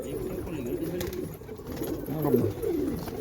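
Soft, low pigeon cooing in repeated rolling phrases, close by, over a light background hum.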